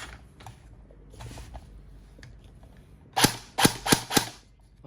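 An HK416N Double Bell airsoft rifle fires four sharp, snappy shots in quick succession near the end of the clip, close and loud after a stretch of quiet handling noise.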